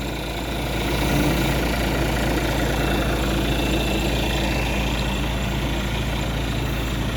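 A tronton truck's diesel engine idles steadily, a deep, loud, constant rumble with a rough low throb and metallic mechanical chatter, heard close and alone without talk.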